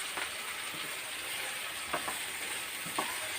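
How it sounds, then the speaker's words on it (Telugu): Tomatoes frying in hot oil for a chicken gravy, a soft continuous sizzle with a few brief stirring scrapes, fairly quiet and with no voices. "టమాటా ఇలాగా చక్కగా ఆయిల్లో వేస్తున్నాను అన్నమాట"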